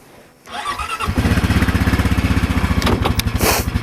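A four-wheeler ATV engine starts and settles into a close, loud, fast-pulsing putter. It is hauling a half-loaded trailer through about 4 inches of snow over ice, and there is no talking.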